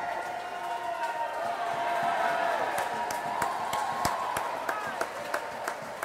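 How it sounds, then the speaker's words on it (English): Crowd applause and cheering ring out for swimmers at an aquatics event during the 2012 Summer Games, a steady roar with scattered sharp claps and whistles that swells in the middle and eases slightly toward the end. "All these competitors are getting a great round of applause from the crowd here"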